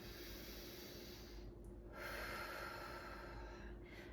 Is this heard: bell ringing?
no